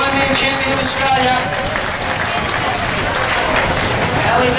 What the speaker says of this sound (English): Give him a cheer, guys.